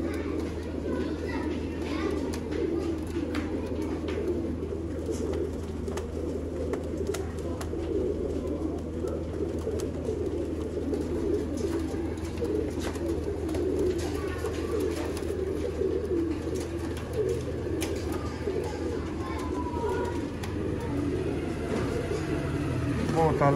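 Royal Teddy pigeons coo softly and continuously in a loft, with children's voices and occasional traffic in the background.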